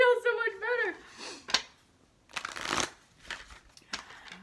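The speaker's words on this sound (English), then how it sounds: "So we're just going to shuffle." A deck of cards is shuffled for a numerology reading in several close, crisp riffling bursts, with a brief voice at the start and quiet pauses between the bursts.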